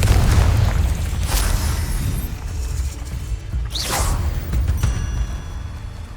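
Casting the Confringo spell in Hogwarts Legacy sets off booming magical blasts with whooshing bursts, loud and close, including one sharp explosive flare near the middle over a dense rumbling game background.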